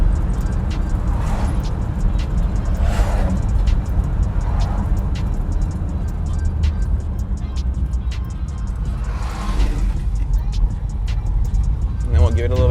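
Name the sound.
1956 Chevrolet Bel Air engine running while driving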